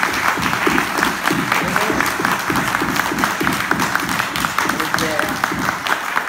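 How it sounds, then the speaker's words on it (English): A church congregation claps together in a dense, steady round of applause that fills the room, even and sustained from start to finish with no talk over it. "let's give the Lord a clap offering"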